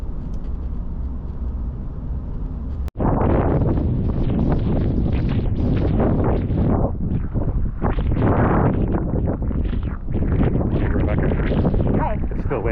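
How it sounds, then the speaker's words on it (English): Strong gusting wind buffets the microphone on Iceland's Ring Road, a loud rough roar that surges and dips continuously after a sharp knock, with a voice faintly underneath. "It's still windy. It is so windy."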